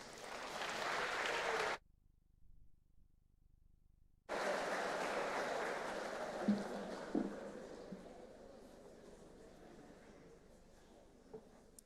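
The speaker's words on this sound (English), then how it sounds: "Please, a warm applause." A welcome-event audience of new students applauds, a broad wash of clapping that cuts out briefly and then resumes and gradually dies down.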